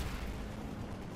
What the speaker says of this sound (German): das ist ein MacWriter, der ist explodiert.